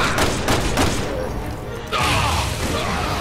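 Rapid gunfire from Resident Evil 6 rattles in dense bursts, with a brief lull before another heavy volley, loud and close.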